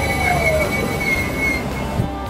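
A train at a station rumbles steadily close by with high, drawn-out wheel squeals cutting across the noise, loud and continuous throughout.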